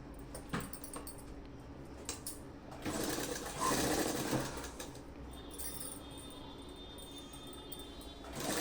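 A sewing machine stitching a salwar, its motor whirring in short runs with a louder burst mid-way, plus faint clicks and handling noises around it.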